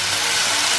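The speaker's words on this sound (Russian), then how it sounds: "мы как можно меньше тревожим мясо во время обжаривания" Chicken fillet fries in a hot skillet, giving a dense, continuous sizzle that stays close and steady throughout, with no talking.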